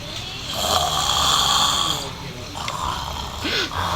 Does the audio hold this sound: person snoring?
yes